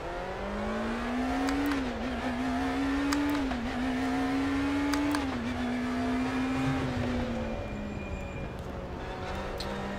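A race car engine in the sim racing game RaceRoom, lapping the Road America circuit, holds a steady high drone with brief dips and climbs as the driver shifts and works the throttle, loud and close for the whole stretch with no talk.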